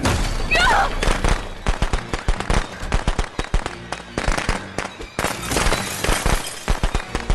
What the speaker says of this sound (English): we are going to use our shotgun